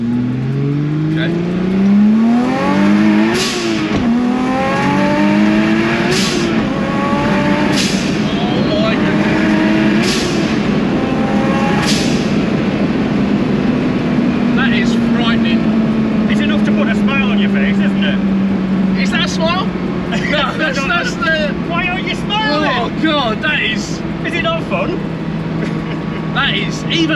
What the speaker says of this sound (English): The traction control is likely to kick in now and it'll start misfiring.